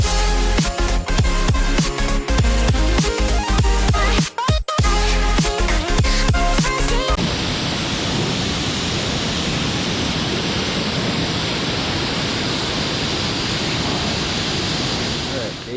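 A pressure washer blasts grime off a UTV, a loud, steady broadband hiss of spray running unbroken for several seconds after a stretch of music at the start.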